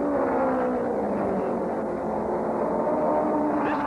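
Race cars roar around the track at the 1966 USAC Langhorne 100, a steady, fairly distant engine drone with a slowly shifting pitch and no talk over it.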